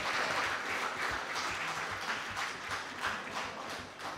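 Congregation at a church service applauds, a soft, steady patter of many hands heard at some distance and fairly faint, lasting the whole moment without talk.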